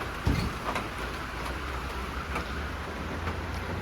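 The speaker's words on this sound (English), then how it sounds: "The rain is just going." A heavy rainstorm pours down on the Vancouver Island coast, heard from indoors as a dense, steady wash of rain with a few louder thumps.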